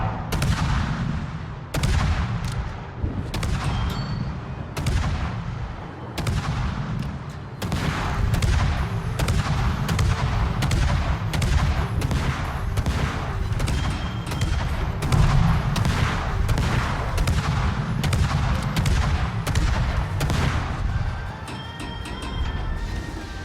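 Massive naval gun salvos from the Japanese battleship Musashi in a warship battle game, a long run of loud, sharp booming volleys repeating every second or so, close and heavy with rumbling low end between shots.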